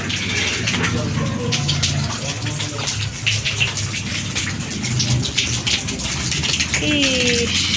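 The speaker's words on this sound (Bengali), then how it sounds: "সিঁড়িতে জল আসছে" Water runs and splashes steadily onto the stairs of a new flat, a broad continuous wash with scattered drips, with a voice speaking over it.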